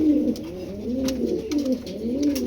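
Foreign racing pigeons coo in soft, rolling low calls, repeated several times up close, with faint clicks and rustles around them and no talk.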